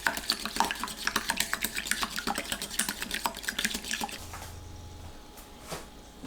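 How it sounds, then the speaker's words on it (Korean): Eggs are beaten in a bowl for mushroom pancakes, with rapid, even clicking strokes of a utensil close by for about four seconds before the whisking stops and a quiet pause follows. "계란을 풀어서 준비합니다."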